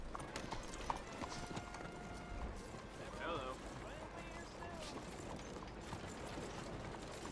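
Horse hooves clip-clop steadily in a video game, with faint mechanical clatter in the background; a voice talks over the hoofbeats throughout.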